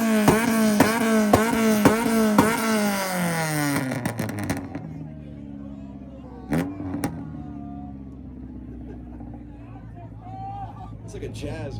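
A Honda Accord's engine revs hard at an import rev battle, rapid repeated throttle blips rising and falling in a quick rhythm, then settling to a lower idle with crowd chatter and brief bursts in the background.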